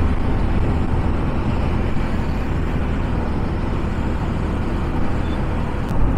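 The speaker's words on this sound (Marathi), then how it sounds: "थोडं थोडस ट्रॅफिक दिसत आहे" Road traffic streams past during a motorbike ride near Virar, a continuous dense rumble of engines and road noise that rarely lets up.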